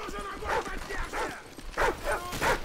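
Dogs bark and yip in bursts during Call of Duty 4: Modern Warfare, several sharp barks spaced across the moment, moderately loud with faint voices underneath.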